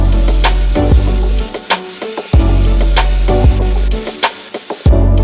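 A drill bores pilot holes through plywood sheets for a miter saw and table saw workbench, in a series of close, whirring bursts that rise and fall with short pauses between them.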